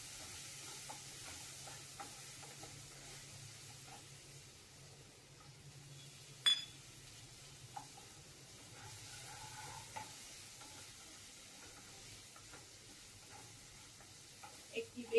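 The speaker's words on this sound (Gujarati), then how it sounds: "એક થી 2 મિનિટ બટેટાને સાતળી લેવાનું છે આવી રીતે" Diced potatoes sautéing in a pan with lentils for vegetable rava upma, a faint low sizzle with soft stirring scrapes and one sharp clack partway through.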